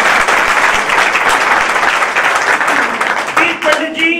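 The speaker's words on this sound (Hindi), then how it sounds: "सतीश पंडित जी एक बार जोरदार तालियां हो जाए" Loud, dense applause from an audience at a business training session fills the room steadily, with a voice rising over the clapping near the end.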